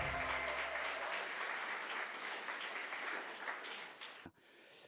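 Enthusiastic audience applause opens a middle-school mock trial competition, a thick burst of clapping that slowly thins and fades, dips sharply near the end and then picks up again briefly.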